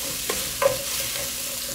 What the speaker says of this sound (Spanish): voy a empezar a poner la cebolla y vamos a empezar a sofreír